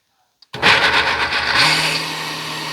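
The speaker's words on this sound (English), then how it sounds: "it's just a matter of putting the blender on puree." After brief silence, a blender whirs to life at full speed pureeing a cinnamon hummus apple dip, a loud steady motor whine that continues and then shifts to a lower, steadier hum.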